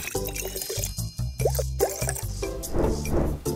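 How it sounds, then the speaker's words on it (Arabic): Water poured into plastic bottles for mixing blue and yellow paint, close gurgling drips and plops between bursts of a person talking. "هحط هنا مية"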